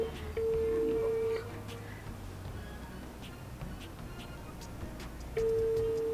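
An unanswered phone call sounds a steady ringback tone: one long beep near the start and another near the end, separated by a long gap, over a low background hum.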